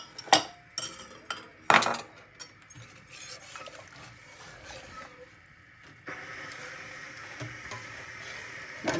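A utensil stirs dissolved cornflour into a vanilla ice cream mixture in a pan. A few sharp metal clinks ring out at the start, then it settles into quieter, continuous swishing and scraping.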